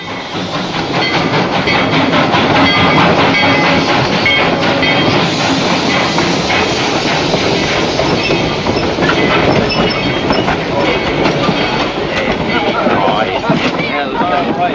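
A train pulling into a station in a 1949 Western setting, heard as a loud, continuous rumbling rush of rail noise with clattering wheels that fills the whole stretch without pause.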